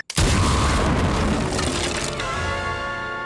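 Cartoon explosion sound effect, a sudden loud boom that bursts out at once and then decays into a long rumbling, crackling tail with a ringing tone, no talk.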